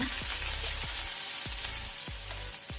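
Garlic cloves and cumin seeds frying in oil over a low flame, a steady close sizzle with faint recurring low knocks of a pan or spoon, no voices.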